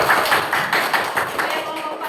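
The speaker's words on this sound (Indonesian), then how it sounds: "kita tepuk tangan" A group of pupils in a classroom clapping their hands together in a quick, steady rhythm of about ten claps, fairly loud and close, with voices mixed in.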